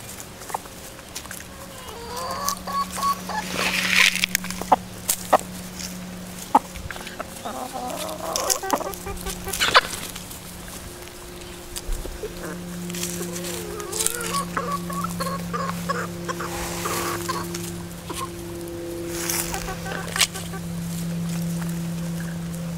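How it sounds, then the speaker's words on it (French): Rooster and hens from a backyard chicken flock cluck in scattered bursts, with one louder crow-like call near the start, over a steady low mechanical hum that runs throughout. "Le coq prend la course, c'est le coq piqué"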